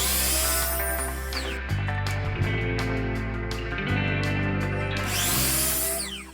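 A power saw cuts a 45-degree angle on a wooden fence picket for a harvest crate, a loud steady whine dropping in pitch as the blade bites into the wood, then rising again as it frees up, close and alone.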